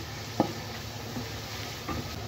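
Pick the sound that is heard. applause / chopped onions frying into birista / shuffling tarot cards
chopped onions frying into birista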